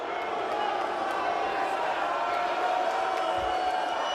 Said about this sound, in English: The crowd voicing their opinion of Chavo Guerrero.